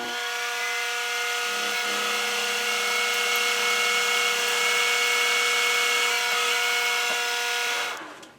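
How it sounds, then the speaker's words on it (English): A split point drill bit bores into metal while making a lathe rear spindle spider. It gives a steady, loud, whining grind for about eight seconds, then winds down and stops. "This is a split point drill, so it does make life a bit easier"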